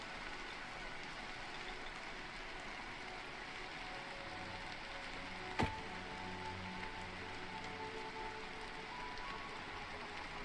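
Steady rainfall in the survival game Citadel: Forged with Fire hisses as a soft, even wash throughout, with one brief sharp click midway and no talking.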